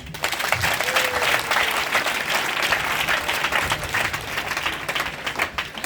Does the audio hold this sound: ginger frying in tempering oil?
no